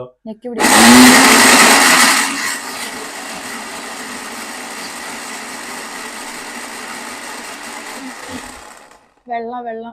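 A kitchen mixer grinder runs for about eight seconds, starting with a loud surge that settles into a steady, high-pitched whine, then cuts off just before a voice begins speaking.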